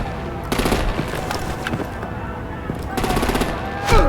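Rapid gunfire bursts in Batman: The Enemy Within from Telltale, with machine-gun rattles and heavy shots in a chaotic battle, loud and close, repeated through the scene over a constant background rumble.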